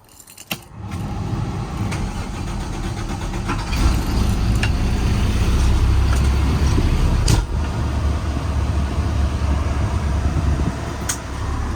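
A 2005 Peterbilt 335 mechanics truck cold-starts after a jingle of keys, settling into a close, rough, steady diesel idle with a few sharp clicks and knocks over the running engine.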